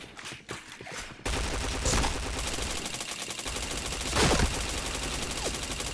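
Rapid automatic gunfire in a shooting video game, with dense bursts of shots running almost continuously after a brief quieter opening and a louder burst near the end.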